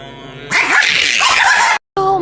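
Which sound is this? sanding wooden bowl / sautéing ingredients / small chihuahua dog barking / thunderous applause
small chihuahua dog barking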